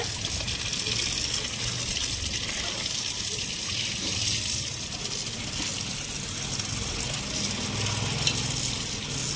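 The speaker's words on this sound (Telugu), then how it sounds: "అన్ని ఫ్రెష్గా 2 times వాష్ చేసుకోవాలన్నమాట" Vegetables for a veg biryani are washed under a gushing tap, the water running loud and steady close by without a break.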